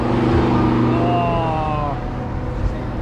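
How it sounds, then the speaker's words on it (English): A Lamborghini engine revs up briefly on a street in Margate, a rising mechanical tone lasting a couple of seconds before settling, with a man's brief exclamation. "Nice Lamborghini."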